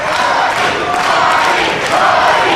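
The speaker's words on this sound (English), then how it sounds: "Everyone rocking out Longwood University with the Hardy chant, circling the ring." A wrestling crowd at Longwood University chants for Jeff Hardy as he circles the ring, a loud, dense mass of voices roaring continuously in an arena.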